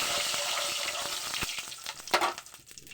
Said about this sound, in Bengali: আর প্রথমেই আমি নুনটা দিয়ে দিচ্ছি গরম তেলের মধ্যে।